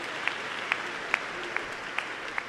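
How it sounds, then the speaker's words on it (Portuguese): Church congregation applauding at Sunday Mass: steady, moderate clapping from a crowd, with a few sharper individual claps standing out, heard alone. "uma salva de palmas para o Felipe."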